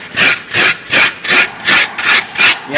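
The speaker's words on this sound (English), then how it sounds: "Don't be afraid to use your rasp as well. It's a little rough, but it will remove material fast" A hand rasp files down the foam body of a walleye taxidermy mount in seven even back-and-forth strokes, a close, loud, coarse scraping with steady rhythm and no talk.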